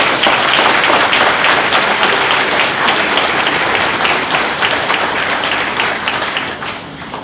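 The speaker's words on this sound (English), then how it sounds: "So please give another round of applause." A crowd applauds steadily at a mayor's State of the City address, dense clapping filling the room, loud and sustained before tapering slightly at the end.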